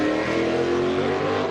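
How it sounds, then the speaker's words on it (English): A Jordan Formula One race car engine at a speed festival blares loud and steady in a brief burst, a high sustained tone with a slight rise and fall in pitch. "We're going to get a good listen to the F1 car"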